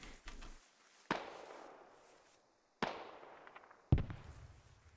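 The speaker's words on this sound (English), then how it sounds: "some rounds come in really close" Gunfire rounds landing close by in the military shooter game Squad, three sharp loud cracks with decaying echoing tails spaced a couple of seconds apart, no talk.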